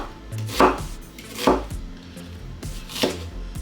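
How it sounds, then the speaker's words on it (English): A knife chops through an onion on a cutting board for jerk salmon prep, three distinct firm thuds spaced about a second apart, close and clear with no talking. "I'm gonna start out by cutting up my onion."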